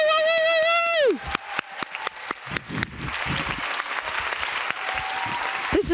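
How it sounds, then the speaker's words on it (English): Audience applause for a Democracy Innovation Award finalist, opening with a loud sustained whooping voice, then a run of distinct individual claps swelling into a dense steady wash of crowd clapping, with a brief vocal sound near the end. "This is your applause."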